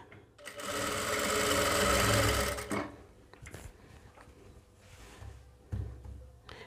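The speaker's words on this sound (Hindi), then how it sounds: "कपड़े को बाहर निकालेंगे और सिलाई चलाएंगे" A sewing machine stitches a fall onto a saree: a loud, fast whirring run of stitches up close, then quieter, stop-start bursts of the machine with soft handling noises between them.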